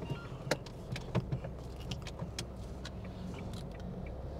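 Nissan Magnite 2021 turbo compact SUV pulling away from a stop, heard from inside the cabin as a steady low road and engine rumble with a few small clicks and knocks early on, no talking.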